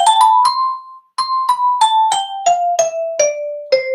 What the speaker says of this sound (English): So I'm going to change mine to toy piano.